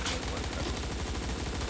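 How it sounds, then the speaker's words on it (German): Gunfire in the top-down battle royale game Surviv.io, a dense stream of rapid shots running steadily throughout at moderate loudness, with a voice talking over it. "Wo schießt der hin?"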